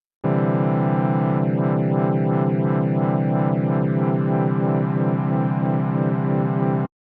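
A thick, buzzy synthesizer chord held steadily for several seconds, with a slow wavering chorus shimmer from detuned voices, loud and alone.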